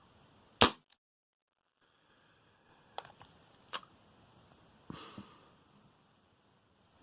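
An ASG Dan Wesson airsoft revolver fires one loud sharp crack, followed by a few softer clicks and snaps from the plastic gun being handled.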